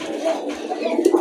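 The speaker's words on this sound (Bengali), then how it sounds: "এখানে আরো দুইটা কবুতর চলে আসছে" Pigeons at a fancy-pigeon seller's loft coo softly in repeated low, throaty calls, close by against a faint background, with a slightly louder burst of cooing near the end.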